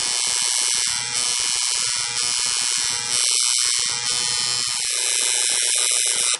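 A tattoo machine buzzes steadily and closely throughout while shading black ink, with a continuous electric whine that dips briefly as the machine is moved in a swinging motion.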